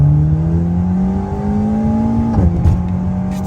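An Alpine sports car pulling hard, its engine note climbing steadily and loudly before a quick gear change, then picking up again, close and prominent with no talk.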